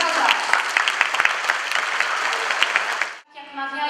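A loud, dense burst of crowd applause at a youth football tournament group draw, sustained clapping that cuts off abruptly, followed by a short stretch of a voice starting to speak.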